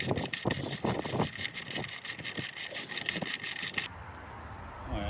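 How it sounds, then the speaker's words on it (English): A ratchet wrench clicks rapidly and steadily while tightening the coil pack bolt on a 2013 Hyundai Sonata GLS 2.4L Theta II engine, close and continuous before stopping abruptly. "So just go on, just keep ratcheting."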